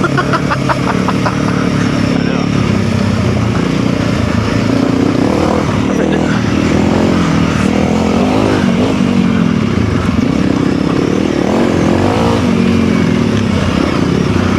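A Honda CRF300L dirt bike engine roars steadily and loudly throughout, with rough clattering as the bike rides over uneven trail ground; a voice speaks over it.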